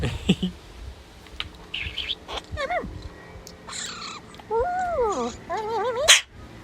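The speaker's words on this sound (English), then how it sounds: "Bird, that was a big one." Several bird calls ring out, with rising and falling chirps and squawks close by, mixed with scattered bursts of other sounds and brief noises.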